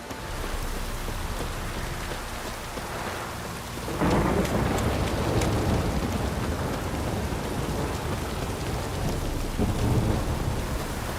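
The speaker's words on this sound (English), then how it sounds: "This downpour's a bastard," Heavy rain with rumbling thunder in The Witcher 3, a steady dense downpour that swells into a louder roll of thunder partway through and keeps pouring, with no voices.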